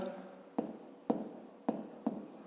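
Pen or pencil writes out a fifth-grade math solution on paper, four short scratching strokes at a steady rhythm, quiet and close with a faint murmuring voice beneath.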